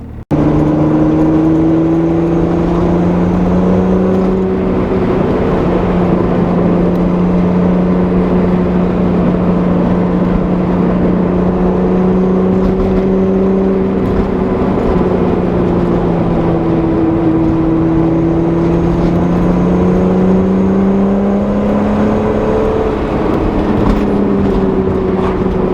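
Steady droning of a 2.8L or 3.2L VR6 car engine while driving, heard from inside the car, with the pitch slowly rising and falling as the revs change, continuous and fairly loud throughout.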